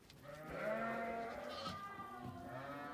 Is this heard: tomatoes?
no